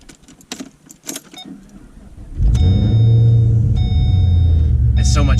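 Keys jangle briefly before a cammed 2009 Pontiac G8 with an LS V8 cranks and fires, settling into a loud, deep, lumpy idle that rumbles steadily close by.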